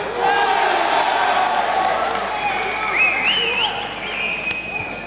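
Crowd at an Enfusion kickboxing event cheering and applauding in a packed venue, a sustained roar with whoops and whistles rising partway through, under a commentator's voice.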